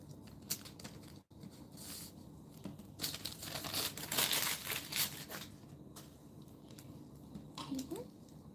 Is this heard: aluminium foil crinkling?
yes